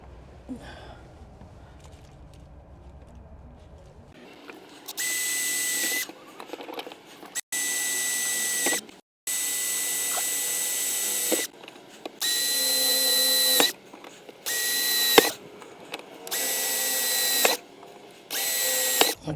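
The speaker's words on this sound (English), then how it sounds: "Now I'll pre-drill all those holes into the beam" A power drill pre-drills holes into a beam inside an RV, whirring in repeated bursts of a second or two with brief pauses between, close and fairly loud after a quiet start.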